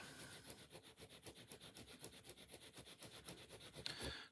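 Abrasive filing or sanding on the rough casting of a plastic airsoft hammer unit for a Tokyo Marui Sig Sauer P226, a fast, steady rasping stroke repeated closely and quietly.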